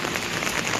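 Heavy monsoon rain pours down steadily outdoors, a dense, loud, continuous hiss of drops hammering surfaces with no pauses and no voices.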